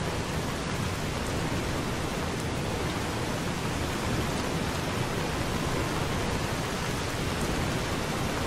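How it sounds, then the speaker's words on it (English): Steady, dense hiss of heavy rain in the Fallout: New Vegas game world, unbroken and constant throughout with no distinct drops or thunder standing out. "Can we get rid of this frickin' rain?"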